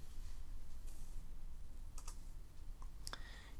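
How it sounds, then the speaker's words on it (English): A grep command is typed on a computer keyboard, with a few close, sharp key clicks spread over a few seconds against a soft room hiss. "My next step is to run the grep command."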